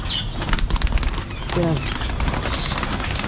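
Pigeons flutter and flap their wings as they gather to eat grit, a busy burst of wingbeats with soft cooing, close by, while someone talks over them.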